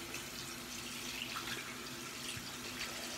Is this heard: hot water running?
yes